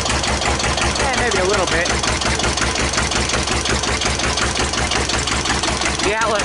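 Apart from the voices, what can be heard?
1941 Witte one-cylinder diesel engine generator running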